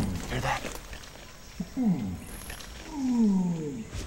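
A flanged male orangutan, a big dominant male, calls in a forest with rising, groaning tones that come in two bursts, the second longer and louder, over faint ambient noise.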